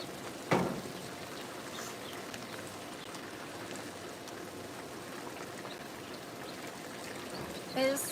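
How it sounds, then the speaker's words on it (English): Water is poured briefly into a pot of rice porridge, giving a soft, faint trickle under low background noise, with a quiet voice now and then. "I'm gonna add a little more water in there."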